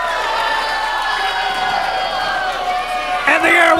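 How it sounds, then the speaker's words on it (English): A wrestling crowd roars in a frenzy after a high-flying dive, with a loud continuous wall of cheering and shouting, a commentator's voice faint beneath it, and a fresh burst of noise near the end. "And the Airwolf has worked this crowd into a frenzy."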